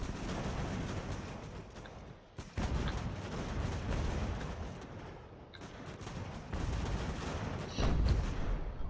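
Musket volleys and artillery fire from a battle in Ultimate General: American Revolution, a dense ongoing rumble of crackling shots and booms, steady and fairly loud with brief lulls.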